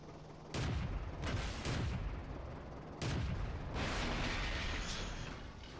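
Several loud tank cannon shots from the Vickers Medium Mk. II in World of Tanks, one fired into the side of a building: booming blasts at irregular intervals, each trailing into a long, rumbling roll of echo and battle noise.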